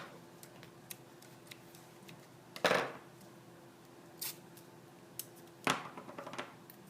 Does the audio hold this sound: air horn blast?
no